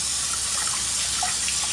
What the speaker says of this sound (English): I'm just gonna have the water running, cold water running over it